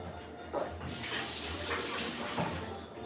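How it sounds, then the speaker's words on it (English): Tap water runs steadily into a sink during a handwash, a close, continuous splashing rush with slight shifts as hands move under the stream. "Give my hands a good wash down"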